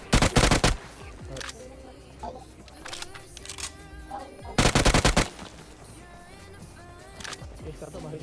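A DBS shotgun firing in PUBG Mobile: two loud, rapid bursts of shots, one at the start and one midway, with quieter game sounds and a speaking voice between them.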